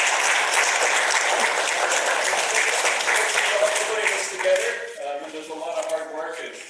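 A congregation at a Unitarian Universalist worship service claps in sustained, dense applause for several seconds, thinning out toward the end as a voice begins speaking.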